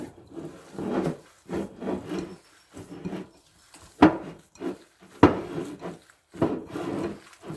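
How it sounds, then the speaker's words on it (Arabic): Minced meat being kneaded by hand with spices, giving soft, wet squelching and rubbing pulses in a steady rhythm, close up, with two sharper knocks partway through. "ودونك نعجن لا فيوند هاشي تاعي"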